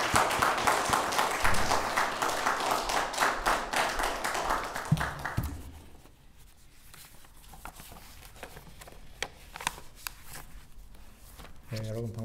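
A church congregation claps to welcome a visiting preacher, and the applause is strong and busy at first. It fades away about halfway through, leaving a quieter room with soft shuffling and a voice starting to speak near the end.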